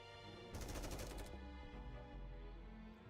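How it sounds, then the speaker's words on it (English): A rapid gunfire barrage in the video game Nikke, a dense burst of loud repeated shots lasting under a second, followed by a sustained rumbling tail. "He fires a barrage of bullets."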